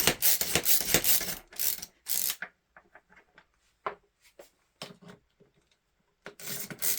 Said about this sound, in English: This is a Stanley Yankee style screwdriver.